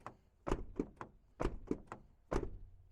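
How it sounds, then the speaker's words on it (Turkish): Doors on a Mercedes Vito Tourer 114 CDI van shut with a series of solid, close thunks, about seven in quick irregular succession, separated by brief quiet gaps. "kapı seslerimiz gayet güzel. Çünkü o bir Mercedes."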